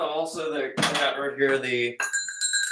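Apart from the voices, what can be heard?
goat bell played as a percussion instrument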